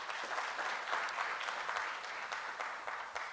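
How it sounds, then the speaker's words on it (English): Listeners at an academic forum on African agriculture applaud a professor's presentation with a soft, continuous patter of many hands, fairly quiet and evenly sustained. "can you clap for Prof for that presentation?"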